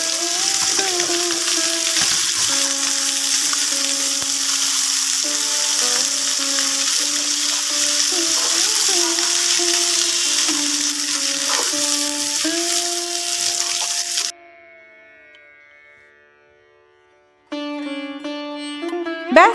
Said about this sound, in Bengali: অন্যদিকে ছোট সাইজের পমফ্রেট মাছগুলো ভেজে নিলাম।